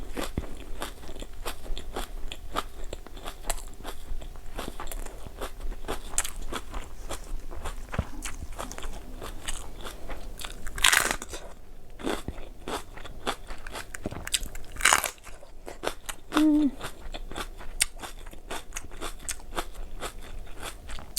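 Crunchy stir-fried Mama instant noodles being eaten: repeated close, crisp bites and chewing crunches in a steady rhythm with a few louder crackles, no talk.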